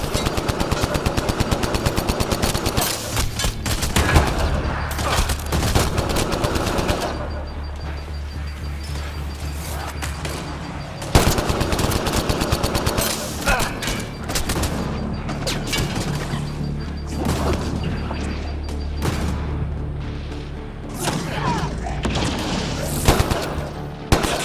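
Enemy gunfire in the video game Mass Effect, sustained loud machine-gun bursts and crackling shots rattling almost nonstop with brief lulls, heavy impacts and crashes mixed in, close and dominant.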